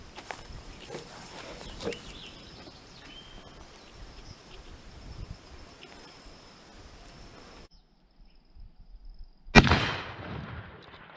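A Colt Lightning large-frame pump-action rifle fires a single loud shot late on, standing alone after a stretch of quiet outdoor background with light shuffling and insect noise.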